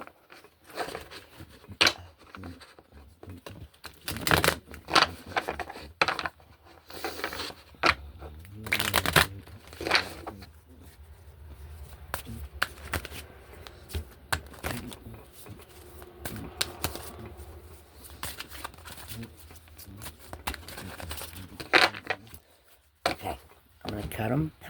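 A deck of cards shuffled and cut repeatedly, riffling in quick bursts of soft snaps and taps near the listener, with a voice talking intermittently in between.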